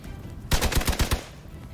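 A quick burst of about six gunshots in the video game Marvel Midnight Suns, sharp and evenly spaced, cracking out of a quiet background and trailing into low ambience.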